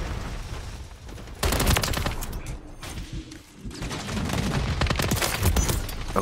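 Modern Warfare 3 gunfire with a weapon fitted with an optic: dense, rapid shots fired in two long bursts with a short lull between them, loud and close, with no talking over it.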